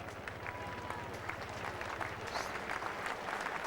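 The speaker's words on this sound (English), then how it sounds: "whatever ovation he gets from this crowd and his teammates is thoroughly deserved" Crowd applauding a bowler at the 1984 England v West Indies Test match at Headingley, a steady, distant ovation of rippling clapping.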